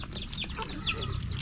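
Several chickens cluck in quick, overlapping bursts, fairly close, with a steady low rumble of background noise and no talking.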